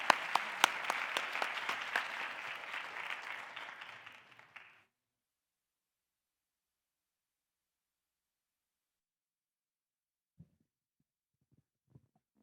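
Audience clapping at a Black History Month spoken word event on a home stage, a few seconds of scattered hand claps that quickly die away into silence, followed by a couple of faint distant knocks.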